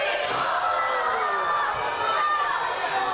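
Wrestling crowd at a heavyweight championship match, a dense continuous roar of shouting and chatter from a large audience, loud and unbroken, with an announcer's voice mixed in.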